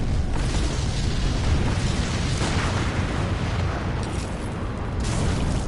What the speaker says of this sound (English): Anyway, this thing, it can shoot fireballs.